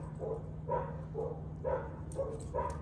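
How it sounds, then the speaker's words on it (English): Two small dogs play together, giving soft yips and barks every half second or so over a low steady hum, faint and fairly close. "You want to see two beautiful little doggies just sitting there playing?"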